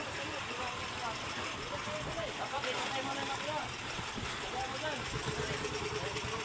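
A fishing boat's engine idles as a low, steady rumble out on choppy water, faint and continuous under an even wash of wind and wave noise.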